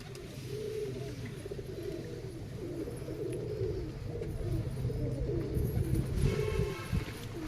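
Pet pigeons cooing steadily in soft, overlapping low murmurs, close by and continuous, with faint higher chirps and background noise; no clear wingbeats stand out.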